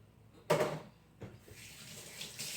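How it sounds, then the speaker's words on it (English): Hands are washed under a running kitchen tap, heard as a sudden gush of water with splashing, a second burst, then a quieter steady stream, fairly close with no talking. "I'm going to step out of frame so I can wash my hands."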